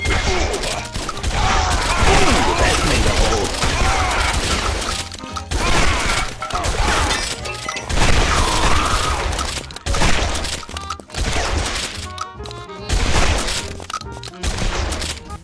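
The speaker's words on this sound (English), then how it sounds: "shell casings coming out of your guns as you fire them" Guns fire rapidly in Guns Gore and Cannoli, loud bursts of gunfire with crashing impacts repeating across the stretch, broken by brief pauses, with no talking.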